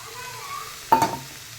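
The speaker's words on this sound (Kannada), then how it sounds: "ಎರಡು ಟೊಮ್ಯಾಟೊ ಹಾಕ್ತಿದ್ದೇನೆ" Two tomatoes dropped into a hot pan with chilli powder and green chillies, a sudden short burst of sizzling that fades within a fraction of a second over quiet background hum.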